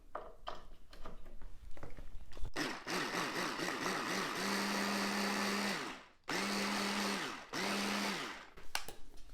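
An immersion blender whirs loudly in steady bursts, its pitch wavering then holding level, cutting off briefly twice before restarting.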